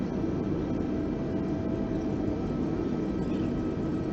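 Airbus A320neo in Microsoft Flight Simulator taxiing off a snowy runway after landing, a steady loud broadband engine and rolling roar that holds unchanged throughout.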